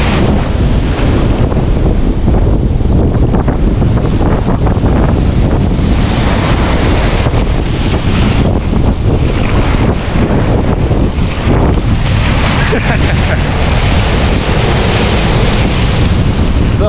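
Sea waves rushing and washing ashore, a constant loud roar with heavy wind buffeting the microphone throughout.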